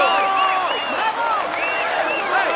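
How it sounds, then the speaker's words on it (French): A crowd cheering the winner at the finish of Tour de France 2016, with steady applause and many whistles and whoops rising and falling over a continuous roar. "On l'applaudit bien fort, il rentre dans l'histoire du cyclisme"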